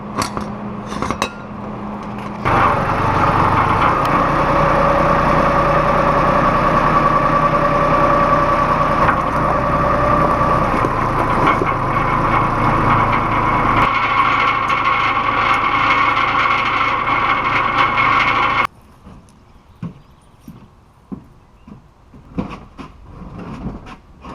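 A small generator engine drones steadily for several seconds, loud and close, then cuts out, leaving scattered clanks and knocks.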